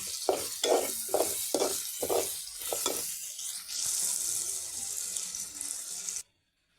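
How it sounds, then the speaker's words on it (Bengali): Masoor dal frying with spices in a pan, first several rhythmic stirring scrapes, then water poured in, bringing a loud, steady sizzling hiss that continues until an abrupt cut. "আমার ডাল ভাজা হয়ে গেছে পর মশলার সাথে আমি পরিমাণ মতো পানি দিয়ে দিয়েছি"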